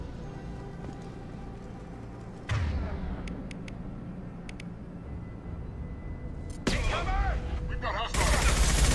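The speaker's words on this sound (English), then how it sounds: "The Blue Suns and Vorcha shooting anything that moves." Video game gunfire in Mass Effect 2 as Blue Suns mercenaries and Vorcha open fire, loud bursts and sustained shooting over a busy battle soundtrack, with a character briefly speaking.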